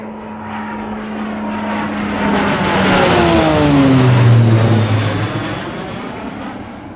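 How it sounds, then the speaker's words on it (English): A military aircraft flies low through a valley in Snowdonia near an Air Force base. Its roar swells to a loud peak and fades as it passes, with a whining tone that sweeps downward, and no one speaks. "Apparently there's an Air Force base close by, so they fly through the valley."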